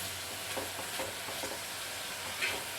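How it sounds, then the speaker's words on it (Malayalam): Grated coconut being stirred with butter in a hot pan, a steady soft sizzle with faint scraping strokes of the spoon, close and quiet, no voices. "നന്നായിട്ടൊന്ന് ഇളക്കി യോജിപ്പിച്ച് കൊടുക്കാം"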